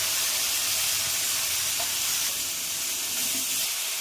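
Pumpkin pieces sizzle in a pan with ground spices, cumin, coriander, ginger, garlic, turmeric and salt, a steady close hiss of frying that runs unbroken for a few seconds without talk.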